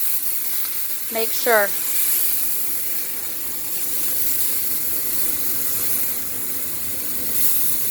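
Taco filling sizzles in beer in a frying pan, a steady close hiss of frying and steam running throughout, with a voice speaking briefly over it.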